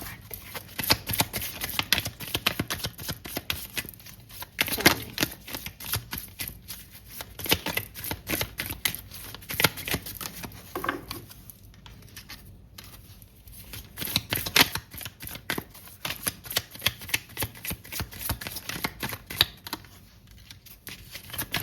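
Tarot cards shuffled and handled continuously, with rapid riffling bursts and papery flicks in an uneven rhythm, close and fairly loud, with a few brief pauses and no speech.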